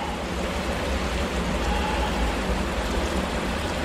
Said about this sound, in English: Well, not a flash of lightning, just tons of rain.